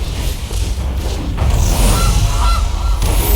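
Gilded Goose card honking as it is played in MTG Arena, a short goose call over the game's steady background music and effects.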